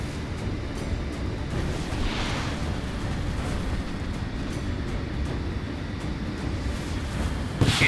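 Booming blasts and rumbling impacts from a video game naval battle between American aircraft and a Chinese warship, a steady dense roar throughout with a sharper burst at the very end.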